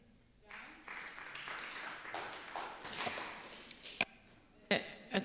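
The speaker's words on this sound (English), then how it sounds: "Can we clap hands again?" A conference audience at an academic tourism and hospitality event claps together, a moderate, fairly distant patter of many hands sustained for several seconds before thinning into a few sharper isolated claps and taps.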